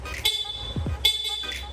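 Two short, bright honks from a Yamaha NMAX scooter's stock horn, evenly spaced, close and fairly loud over a low idling engine.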